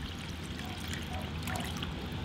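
Water pours and splashes steadily into a container of water beads, a soft continuous trickle with faint splashes throughout.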